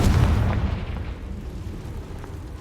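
The Confringo fire spell from the Hogwarts Legacy video game bursts in a loud, heavy boom that rumbles low and slowly decays over a couple of seconds, with no talking.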